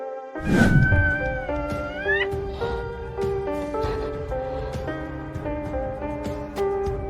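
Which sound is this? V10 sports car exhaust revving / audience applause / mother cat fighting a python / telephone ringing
mother cat fighting a python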